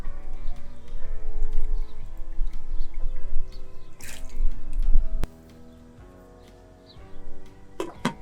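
Salted water poured into a pot for boiling chickpeas, a steady splashing pour with dripping and clinks, then a pause and a few more drips and splashes near the end.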